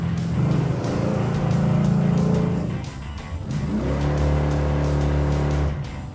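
A 440-powered Dodge Dart with a loose torque converter and blown rear shocks revs hard and loud, its engine note dipping briefly midway before climbing again and holding a steady high-rpm roar.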